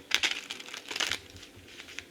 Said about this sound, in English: All right, just one more shuffle.